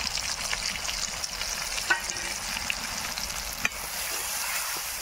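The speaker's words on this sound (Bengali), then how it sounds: "টমেটো, কাঁচা লঙ্কা সুন্দর করে কষিয়ে নেব।" Tomato and green chili sautéing in a hot pan for a vegetable dish, a steady close sizzle and crackle throughout with an occasional stir scraping the pan.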